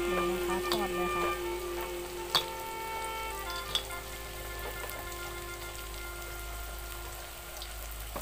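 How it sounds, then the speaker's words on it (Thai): Sun-dried rice frying in hot oil on a heated stove, a steady close sizzle with a few sharp pops and crackles throughout. "นําข้าวที่เราตากแดดไว้แห้งนําลงมาทอดเลยนะคะทอดเลยค่ะ"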